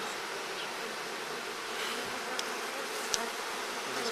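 Honeybees buzz steadily inside a beehive in April, a continuous dense hum with a few individual bees droning past close by.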